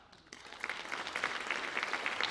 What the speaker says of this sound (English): You don't need to applaud me